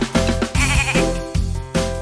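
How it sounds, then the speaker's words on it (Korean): Goat bleating in a farm-themed children's song, several short wavering bleats in quick succession, close and clear against a musical background. "대나무 밑엔 염소가"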